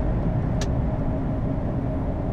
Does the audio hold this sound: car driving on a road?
yes